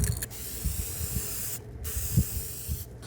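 Cellosolve hisses steadily from a spray can onto the old lacquer of a guitar headstock, with two short pauses between bursts, close and continuous.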